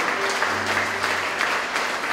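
A church congregation applauding, steady dense clapping that carries on for a couple of seconds with a faint low hum underneath.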